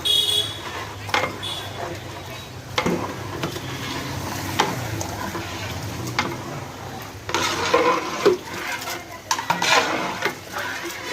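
A cook stirs chicken curry for biryani in a large pot: scraping and clanking of a ladle against metal and thick sizzling, with someone talking over it.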